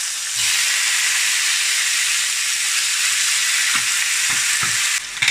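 Pieces of Charra beef from Salamanca hit hot oil and fry with a loud, steady, close sizzle that holds evenly, with a few faint clinks and stirring taps near the end.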